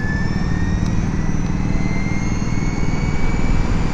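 An Ather 450X Gen 3 electric scooter accelerates hard in warp mode with launch control, a loud steady rush of wind and motor whine with a rising high tone, no talking.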